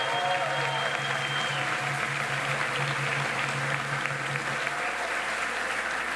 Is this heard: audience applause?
yes